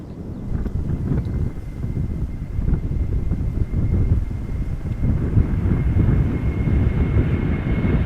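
A KLM airliner in the airline's old livery roars steadily near the runway at Amsterdam Schiphol Airport, a broad continuous engine rumble mixed with wind buffeting the microphone, with no talk.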